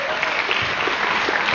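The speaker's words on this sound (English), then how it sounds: "Not very often the principal gets clapped for." Audience applauding a freshman principal at an eighth-grade parent night: steady, dense clapping from a large crowd, continuous and fairly loud throughout.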